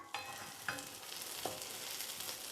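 A banana pancake fries in a pan with a soft, steady sizzle, broken by a few faint clicks and scrapes close by.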